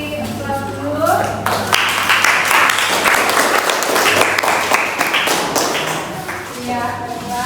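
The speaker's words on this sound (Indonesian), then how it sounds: "silakan untuk kelompok 1 kita beri aplaus dulu" A classroom group claps after presenting, a steady patter of many hands lasting several seconds, with a person talking before and after.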